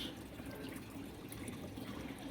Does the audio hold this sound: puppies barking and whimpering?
no